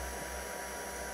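A heat gun blows steadily while heat embossing powder on a handmade papercraft butterfly greeting card, giving a continuous close, even whooshing hum with no break and no voices.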